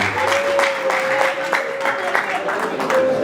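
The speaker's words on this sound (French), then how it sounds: "Est-ce qu'on peut acclamer très fort?" Guests at a surprise birthday party applaud and cheer loudly, a dense steady wash of clapping with voices mixed in throughout.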